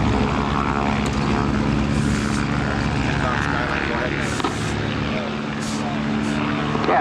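Polished aluminum seaplane with a propeller engine taxiing on the water at a lake fly-in, a loud, steady droning roar close by with voices talking over it.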